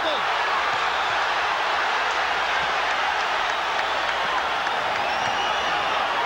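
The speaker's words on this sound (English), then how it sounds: "crowd lights up as Galata lands a combo" Boxing crowd cheering loudly in an arena as Riddick Bowe's opponent lands a combo, a dense, sustained roar with scattered claps and shouts throughout.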